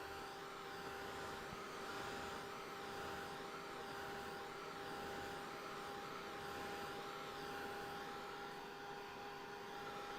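A hair dryer blows over a watercolor painting of eggs, giving a quiet, constant whirring drone with a steady tonal hum and no pauses or talk.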